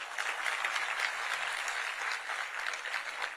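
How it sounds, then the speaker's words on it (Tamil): Audience applause at a political event marking a leader's 100th birth anniversary, steady dense clapping from many hands throughout. "கொஞ்சம் மெதுவாக கைத்தட்டல் வந்தது."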